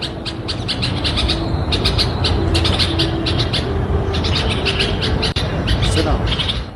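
Small birds chirp and tweet repeatedly near a window where they are nesting with their young, a busy stream of high calls over a steady background hum.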